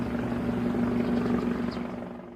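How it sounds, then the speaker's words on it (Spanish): A helicopter flies over the Chernobyl reactor, its rotor giving a steady, dense drone that holds loud and close throughout before easing slightly at the end. "Los pilotos de helicópteros sobrevolaron el reactor para arrojar arena y boro"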